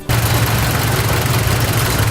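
Engine of a 1980 John Deere 1050 tractor running on a farm: a loud, steady, close rumble with an even low throb, starting abruptly and continuing without talk.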